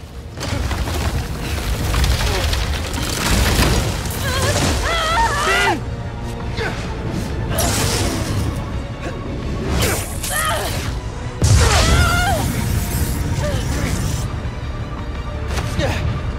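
A wall collapses in Marvel's Spider-Man video game, giving loud crashing booms and whooshing debris in repeated bursts with heavy impacts amid a dense, continuous action soundscape.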